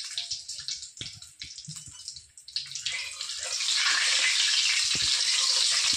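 Bay leaf, a dried red chilli and whole garam masala spices hit hot oil, giving a steady hissing sizzle that swells loud and constant after a few clattering knocks, with no talking.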